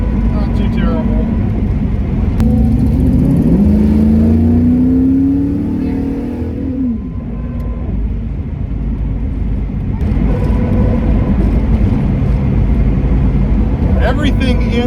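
LS-swapped 1989 IROC on the road after a front suspension and steering rebuild, its engine droning loud and steady with a rising rev, under heavy road rumble and a whirring tone.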